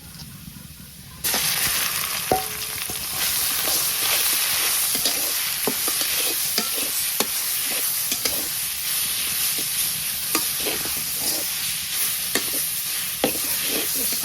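Leafy greens stir-fried in oil in a pan in a village kitchen, with a steady loud sizzle and hiss throughout and periodic scrapes of stirring, heard alone without talk.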